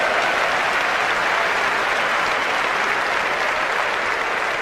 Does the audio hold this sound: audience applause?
yes